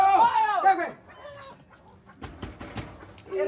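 Cartoonish chicken clucks and squawks from a slot machine game, a quick burst of bright calls at the start, then quieter clattering game sounds and a short final cluck, close and fairly loud.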